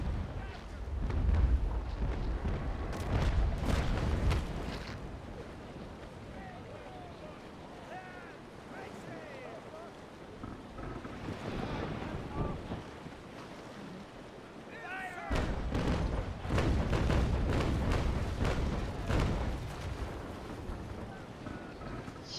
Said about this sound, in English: It's going to shoot chain.